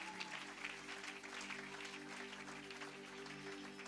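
A church congregation applauds and cheers steadily for several seconds, a dense wash of clapping heard at a moderate distance, with faint voices mixed into the crowd noise.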